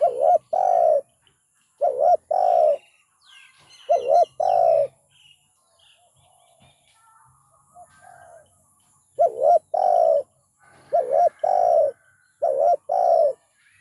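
A spotted dove gives repeated soft, low cooing phrases in short bursts with pauses between, fairly close, with faint chirps from other birds in the background.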